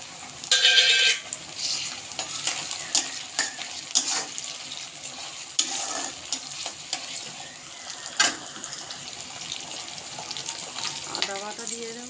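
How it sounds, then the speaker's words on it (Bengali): Chopped tomato and onion fry in a pan for a soybean and chickpea curry, giving a low steady sizzle broken by stirring scrapes, occasional utensil clinks and a louder spattering burst near the start. "টমেটো কুচিটা ঢেলে দেবো। হালকা ভাজা হলে ভালো হয়।"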